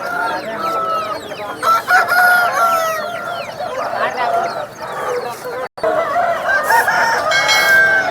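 A rooster over 1.5 years old, crow-feathered, crows loudly at a poultry market, its long calls rising over cackling fowl and talk, with a brief gap near the end.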